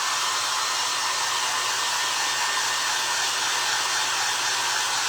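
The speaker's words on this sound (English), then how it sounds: "I need a new dryer." A hair dryer runs at close range, a loud, steady whooshing roar with a low motor hum that holds unchanged throughout, with no voices.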